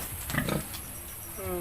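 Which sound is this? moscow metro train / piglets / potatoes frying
piglets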